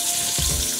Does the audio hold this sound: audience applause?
no